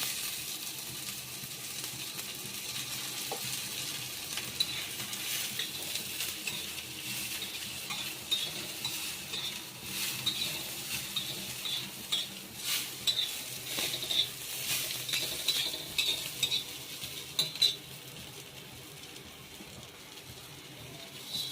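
Oil sizzles in a pan with roasted onions while a spoon stirs, soft steady frying hiss broken by scraping and clinking, fairly quiet and without talk.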